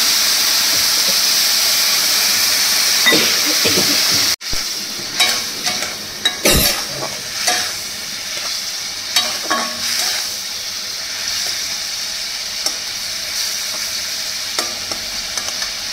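Chickpea curry with green chili sizzles and fries in a pan, a splash of water hitting the hot oil with a loud burst of hissing steam, then stirring scrapes and crackles continuing steadily at close range.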